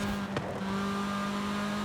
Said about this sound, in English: You can just hear that little 4-cylinder sing. Sounds like it has a supercharger on it.